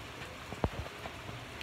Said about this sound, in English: As you can see there, it's raining.